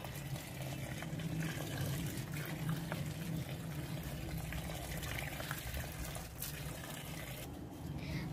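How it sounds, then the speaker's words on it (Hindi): Water flowing steadily onto garden plants and flowering rose bushes, a continuous close splashing and trickling with no pauses and no voices. "तो गाइस, अभी मैंने सारे पेड़ों में पानी दे दिया है।"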